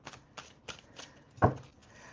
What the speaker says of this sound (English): This just flew out of the deck while I was shuffling